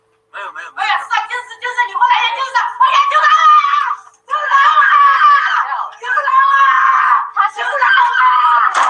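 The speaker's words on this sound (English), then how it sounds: "You can hear a woman inside the black jail screaming for help." A woman screams repeatedly for help from inside a Chinese black jail, the loud, strained wails coming in long sustained bursts with brief gaps between them.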